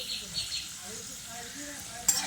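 Shredded potatoes are lifted out of hot frying oil with a strainer, giving a soft, faint sizzle and light scraping, with a sharper clink of the strainer near the end.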